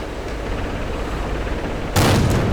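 A tank cannon fires in a tank video game, a tier 4 gun comparable to the Panzer III's KwK 39 L60. One sharp, loud blast lands near the end over a steady low rumble.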